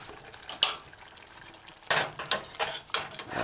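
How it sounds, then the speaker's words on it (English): Cooked meatballs are stirred into a tomato stew in a pot, with a few soft scraping and clinking strokes of a spoon and gentle wet squelches, close and fairly quiet. "now add your cooked meatballs and stir it in, coating your meatballs with that delicious"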